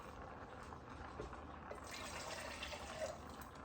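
Water runs into a container being rinsed out while making a gluten-free sausage soup, a soft continuous pouring and splashing that grows slightly fuller partway through.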